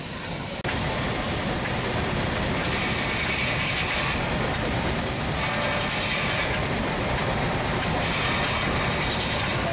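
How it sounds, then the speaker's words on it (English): Loud, continuous mechanical clatter and rumble of a steam traction engine driving a saw at an outdoor steam fair, steady and close, with rhythmic ratcheting over a broad noisy roar. "You've got traction engine just here powering that saw."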